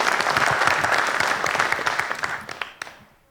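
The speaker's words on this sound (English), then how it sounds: "can we give Eric again a round of applause for his work?" An audience at a State of the City Address gives a round of applause, dense, loud clapping that thins into a few last claps and fades to near silence.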